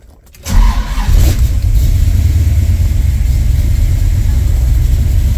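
A car engine cranks and catches within a moment, then settles into a loud, steady idle rumble close by during an alternator test, with no talking.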